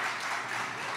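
A church congregation applauds at a baptism service, a dense, even wash of many hands clapping that fills the short moment at moderate loudness with no voices over it.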